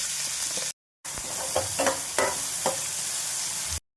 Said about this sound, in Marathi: तेलामध्ये मोहरी, हिंग, कढीपत्ता, एक बारीक कट केलेला कांदा.